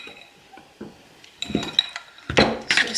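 Chopped green onion is stirred into a recipe mixture in a kitchen bowl, with close, irregular clinks and scrapes of a utensil against the bowl that grow busier toward the end.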